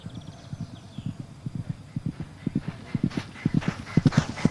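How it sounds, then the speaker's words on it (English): A horse gallops across a cross-country eventing course, its hoofbeats coming in quick, rhythmic triple beats that grow louder and closer over low ambient background noise. "Sarah Ennis galloping on beautifully still for Ireland"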